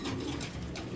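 Racing pigeons coo in a loft, a soft low throaty murmur running steadily through the whole short stretch, close by and without voices.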